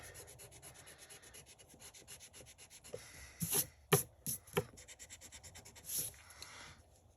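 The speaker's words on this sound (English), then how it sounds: "I'm going to erase the lines up here." An eraser rubs out pencil lines on paper in quick, faint back-and-forth strokes, a soft, steady scrubbing, with a few louder, sharper rubs partway through.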